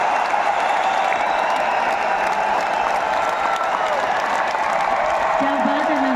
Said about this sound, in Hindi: जोरदार तालियां बनते